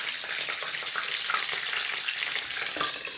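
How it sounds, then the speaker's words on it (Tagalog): Steady, dense sizzling of chicken frying in a hot pan, with crackles and pops of oil throughout and no talking. "At mag-prito muna ako ng ulam naming manok."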